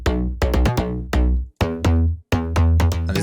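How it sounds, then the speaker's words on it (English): A punchy slap house bass with multi-band distortion plays short, bright, gritty plucked notes in a choppy rhythm, with brief gaps between phrases and no voice. "So I made a multi-band distortion"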